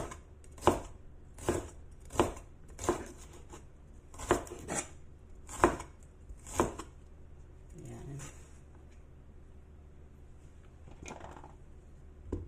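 A knife chops washed celery on a cutting board: about ten sharp, evenly spaced thuds over the first seven seconds, then quieter handling sounds and a few faint taps.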